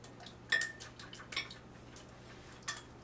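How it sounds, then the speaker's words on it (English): Three eggs whisked in a bowl for an omelette: a few separate clinking strikes of utensil against the bowl, fairly quiet, with pauses between them and a steady low hum underneath. "we're going to start with 3 eggs. You're going to whisk them up."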